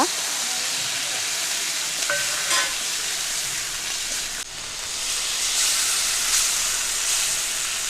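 Ground onion paste and grated ginger frying in a pan for a Bengali fish curry; loud, steady sizzling hiss throughout, with a brief clink near the start and a dip in the middle.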